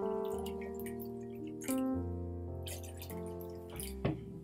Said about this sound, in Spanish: Echamos agua en el recipiente.